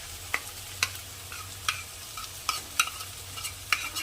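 Cumin paste, ground on a grinding stone, being lightly fried in a pan while cooking mutton kasha, a soft low sizzle with intermittent sharp scraping strokes of a spatula, no talking.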